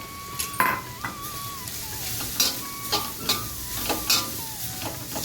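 Grated carrot sautéing in a pan for carrot kheer, with a steady sizzle and scraping stirs against the pan, punctuated by a few sharper clinks of the utensil; a faint whistle-like tone drifts in the background.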